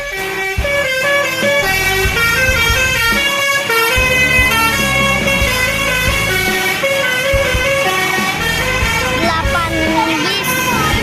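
Bus telolet horns playing loud, melodic multi-tone honks over and over near Al Jabbar, with short pauses between bursts and traffic noise underneath.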